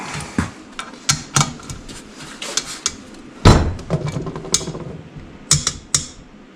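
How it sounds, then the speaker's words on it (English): Winch mounting bolts on a Harbor Freight 9500 winch for a Jeep TJ torqued down by hand with a ratchet wrench: close, sharp metallic clicks and clanks in irregular bursts, one heavier knock in the middle. "we're just going to torque these winch mounting bolts down real good with a manual wrench ratchet"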